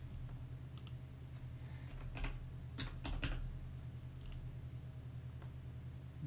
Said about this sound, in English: I'm very bad at typing.